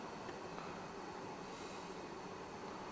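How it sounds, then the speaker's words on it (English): Low, steady rumble of a distant train running on tracks, a continuous broadband roar that holds even throughout, heard at night at a reputedly haunted site with no talk over it. "I can hear trains running on tracks."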